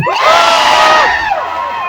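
A large crowd at a protest rally against corruption in the Philippines roars and shouts together in one loud, sustained burst that swells and then eases off.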